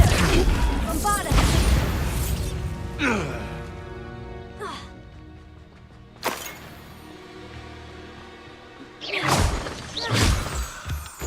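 Bombarda spell blasts in Hogwarts Legacy, sharp booming explosions with crashing debris, one loud burst near the start, another around mid-clip and a final one near the end, amid game sound effects and a spoken voice.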